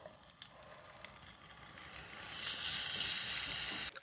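A kimchi pancake fries in a pan, starting quietly with a few light taps and then building into a steady, bright sizzle that holds for several seconds before a sharp knock at the end.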